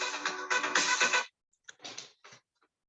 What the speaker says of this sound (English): That's my Israeli phone.